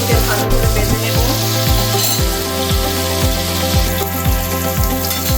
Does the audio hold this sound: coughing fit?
no